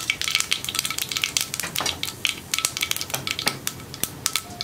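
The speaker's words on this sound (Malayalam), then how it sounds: "വെളിച്ചെണ്ണ നന്നായി ചൂടായി വരുമ്പോൾ കടുക് ചേർക്കാം. കടുകൊന്ന് പൊട്ടി വരട്ടെ" Mustard seeds spluttering and popping in hot coconut oil in a pan, heard as a dense run of sharp, irregular crackles and pops close up, with no talking.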